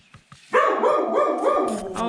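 A puppy barks and yips close by in a rapid, continuous run of sharp barks lasting about a second and a half, at an old colonial house in the West MacDonnell Ranges, Northern Territory.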